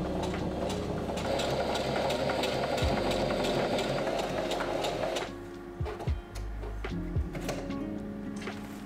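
A sewing machine stitches fabric tent panels together for a camper build, running in a steady, loud mechanical whir that cuts off midway, followed by a few clunks and short restarts.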